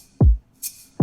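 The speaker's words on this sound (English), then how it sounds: "so the kick, the shaker, and the snare sound" Simple bedroom-pop drum pattern of kick, shaker and snare washed in Valhalla reverb: a booming kick, a hissy snare-shaker hit, then another kick, sparse and clean.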